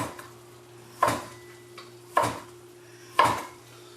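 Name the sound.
knife slicing salami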